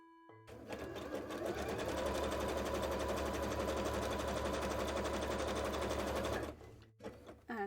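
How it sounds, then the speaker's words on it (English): A sewing machine stitches cosplay pants in one continuous fast, rattling run, close and loud, then stops abruptly, followed by a brief handling noise. "And sew along the top."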